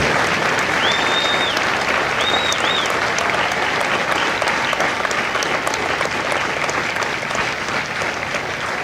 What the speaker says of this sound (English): Ladies and gentlemen, a round of applause for their dedicated service to corps and country.